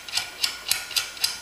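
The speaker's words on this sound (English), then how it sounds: "you can torque this bolt down" A ratchet wrench torques a bolt with a washer on the wooden landing gear tail wheel swing arm of a Pietenpol homebuilt aircraft, making five evenly spaced, close clicking strokes.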